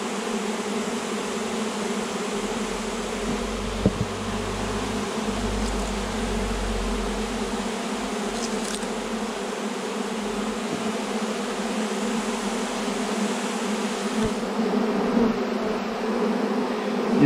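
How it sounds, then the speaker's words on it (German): A honey bee swarm being gathered into a box in May gives a dense, continuous buzzing drone of many bees, steady and fairly loud, with occasional faint knocks and handling noises. "Ihr seht, ein Bienenschwarm ist ziemlich flott."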